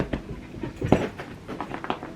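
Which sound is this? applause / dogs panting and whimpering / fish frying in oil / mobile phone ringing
dogs panting and whimpering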